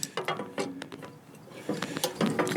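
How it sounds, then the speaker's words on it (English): A half-inch socket ratchet loosens pulley bolts on a John Deere snow blower, clicking in quick uneven bursts of close, moderately quiet pawl ticks. "using the same 1/2 inch socket, we'll loosen up these pulleys"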